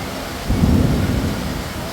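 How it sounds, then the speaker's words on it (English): An afternoon thunder shower breaks at the River Wonders section of Singapore Zoo, with a low rumble of thunder swelling midway over a steady hiss of rain and wind. "in the afternoon, often thunder showers. Just on cue."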